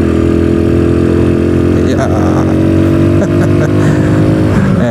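A home-built motorcycle with a standard-cc engine converted from foot clutch to manual hand clutch revs loudly and steadily up close, its pitch shifting as a rider briefly speaks.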